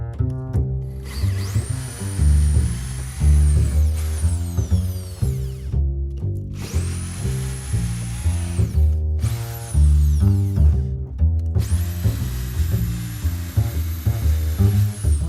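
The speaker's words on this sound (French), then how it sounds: "Et on perce des deux côtés." A power drill bores holes through material from both sides, its loud whining motor revving in several long bursts separated by brief pauses.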